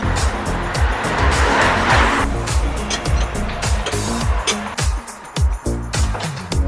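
A Renault truck engine drones steadily while a rhythmic knocking or thumping repeats underneath, an irregular abnormal mechanical noise running throughout at close range.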